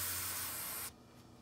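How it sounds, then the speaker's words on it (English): QD electrical cleaner sprays from an aerosol can in one close, loud hissing burst that stops abruptly after under a second. "So I use this stuff, just QD electrical cleaner."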